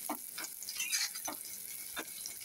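Bitter gourd, potato and shrimp frying in a pan until reddened give off a steady sizzle under periodic stirring scrapes, close and fairly quiet, with no voices.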